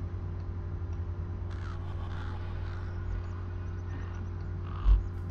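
A raven in the game Lord of the Rings Online gives a few soft caws over a steady low ambient drone, faint and somewhat distant.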